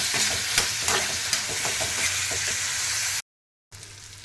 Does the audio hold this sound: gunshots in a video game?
no